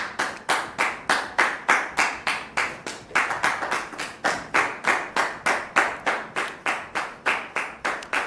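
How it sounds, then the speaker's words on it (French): A church audience claps in steady unison to welcome a woman guest, a rhythmic run of loud, close, evenly spaced claps with no voices over it. "Merci de recevoir notre sœur sous vos applaudissements"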